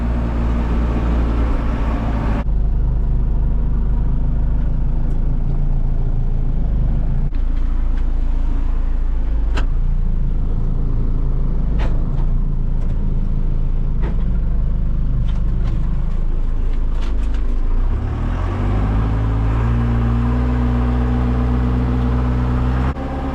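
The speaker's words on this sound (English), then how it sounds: "obviously the tractor works just fine without it" Tractor engine idling and running steadily outdoors on a farm, a loud low rumble with faint clicks and knocks over it, shifting to a higher, smoother tone near the end.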